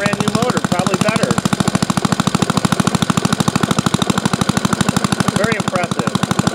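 An old motor, just revived, runs loud and steady with a fast, even pulsing throb that lasts the whole stretch without a break.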